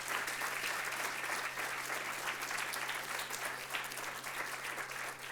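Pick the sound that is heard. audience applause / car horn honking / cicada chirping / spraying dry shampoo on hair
audience applause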